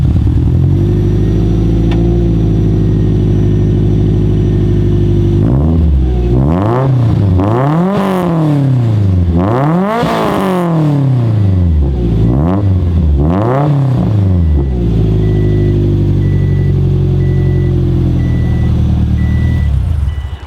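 A JDM performance car engine idles loudly up close, then revs repeatedly in several rising and falling sweeps before settling back to a steady idle.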